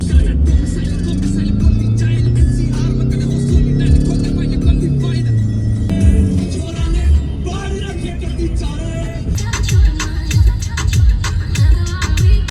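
A car drives along a road on the way to the gym, with steady engine hum and shifting pitch as it changes speed, heard from inside the vehicle throughout.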